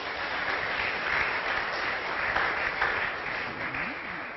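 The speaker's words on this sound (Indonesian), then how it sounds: "Kita tepuk tangan dulu saudara-saudara." A church congregation applauds steadily and fairly faintly across the whole stretch, a continuous wash of many hands with no speech over it.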